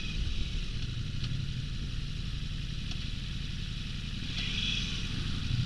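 A 2023 Ducati Multistrada V4 S motorcycle is ridden with a steady engine drone under constant wind roar, smooth and unbroken for nearly six seconds, close, with no talking.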